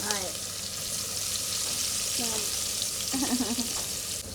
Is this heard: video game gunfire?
no